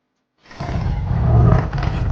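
A tiger's loud roar, deep and sustained, starting after a brief silence and building in strength over about two seconds, alone with no other sounds.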